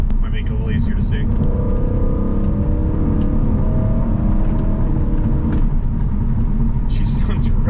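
BMW E93 M3 convertible with its high-revving V8 pulling under acceleration, a loud, steady engine rumble that holds throughout, with some background noise.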